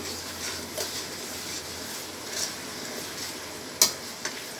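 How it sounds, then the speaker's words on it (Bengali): Spice paste for mango pickle frying over very low heat while being stirred: a steady soft sizzle with scattered scraping strokes and one sharper clink near the end, fairly close. "মশলাটাকে ভালো করে কষিয়ে নিতে হবে"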